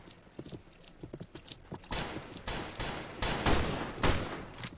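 Horse hooves clip-clop in a video game, a quick run of light, close hoof taps that gives way to a string of loud, sharp, gunfire-like bursts, with no talking.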